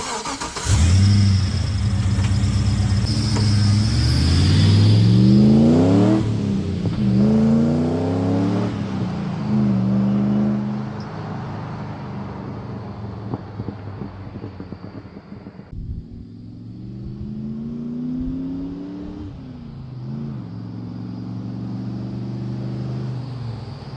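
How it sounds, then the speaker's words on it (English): LS1 V8 engine swapped into a Nissan Patrol, exhaust loud and close as it revs up hard several times in rising and falling sweeps, then settles to a lower idle burble with a few lighter blips. "capture the beautiful V8 exhaust note that comes out of this car"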